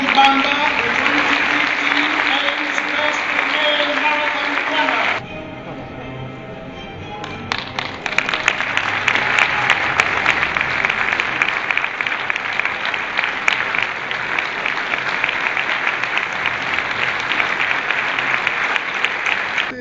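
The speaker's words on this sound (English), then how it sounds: "Let's welcome and applaud again Mare" Sustained applause from a crowd at a marathon runner award ceremony fills the room, briefly dipping before swelling again into steady clapping that continues to the end.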